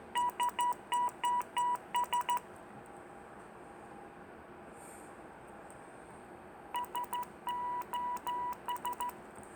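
A code practice oscillator kit from ElectroResales sends short, evenly keyed electronic beep tones in two quick bursts, separated by a few seconds of faint hiss. The tones are clear and up close.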